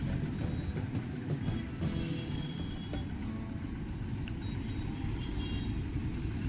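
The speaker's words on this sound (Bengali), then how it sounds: "যত সামনে এগোতে থাকি ততবারে ট্রাফিক, হর্ন, কোলাহল।" Road traffic heard from a commute to work by motorbike, with a steady low rumble of car and vehicle engines and faint distant horns, constant and moderately loud.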